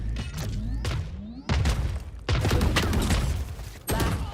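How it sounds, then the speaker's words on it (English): In the Valorant shooter game, a missile barrage strikes in a rapid series of sharp booming impacts. Three or four heavy bursts come in quick succession with rising whistles before them, loud and close, with no speech. "All missiles away."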